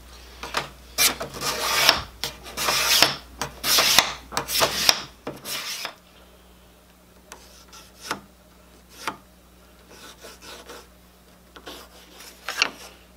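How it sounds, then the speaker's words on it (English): A steel card scraper thins a wooden acoustic guitar soundboard, giving repeated rasping strokes up close: dense and loud at first, then sparser, quieter pulls. "Just when I thought I was done doing any major thicknessing with a card scraper."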